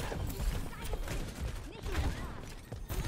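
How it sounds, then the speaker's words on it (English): Overwatch 2 match with Junkrat's grenade launcher lobbing bombs, dense repeated pops and blasts layered under continuous game noise and a talking voice over about three seconds. "Keep lobbing your nades around the corners."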